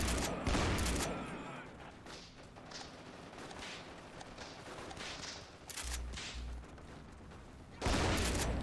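Gunfire in the World War II shooter Forgotten Hope, with bursts of shots at the start and end and scattered reports between, set against steady battlefield noise.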